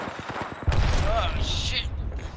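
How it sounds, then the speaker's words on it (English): Explosions from an airstrike in a first-person shooter video game, a heavy low boom hitting partway through and rumbling on under scattered gunfire and game effects, with players' voices talking over it. "There's an airstrike on our position."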